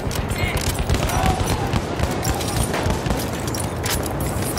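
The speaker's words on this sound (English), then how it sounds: "Machine gun, hostile." Rapid automatic machine gun fire in Battlefield 1 on the Amiens frontlines map, a dense continuous rattle of shots mixed with battlefield noise throughout.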